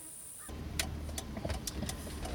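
A car engine starts abruptly and settles into a steady low idle, with scattered clicks and taps around it, heard from inside the car at moderate volume and without speech.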